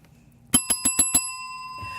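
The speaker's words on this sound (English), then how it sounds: "we just heard the Sin City bell" A bell at a bar venue rings five quick, sharp strikes as a two-minute warning, with a bright sustained tone lingering afterward over a quiet room.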